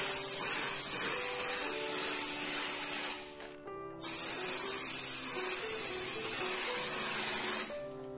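Glossy varnish hisses from a spray can onto a finished diamond painting canvas in two long steady bursts with a short pause between them, close and fairly loud.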